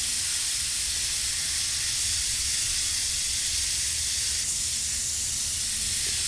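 Continuous aerosol hiss of WD-40 being sprayed onto a weapon in the video game Z.O.N.A Project X, steady and close for several seconds, easing slightly near the end.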